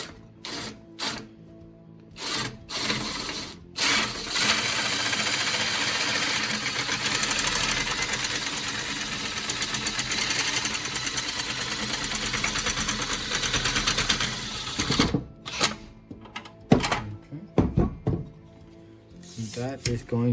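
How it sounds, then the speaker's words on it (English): A cordless drill spins in reverse to lower a scissor jack, a steady mechanical whir that holds for about eleven seconds, bracketed by short clicks and handling knocks at the start and end. "Put the drill in reverse"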